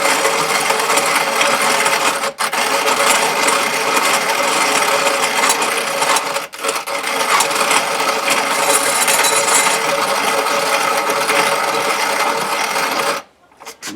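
A hand-cranked manual grinder churns steadily for many seconds, a dense continuous gritty grinding with two brief pauses, close and loud, stopping near the end.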